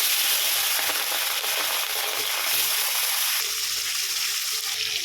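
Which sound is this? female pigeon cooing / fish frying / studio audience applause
fish frying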